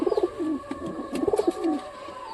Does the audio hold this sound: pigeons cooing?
yes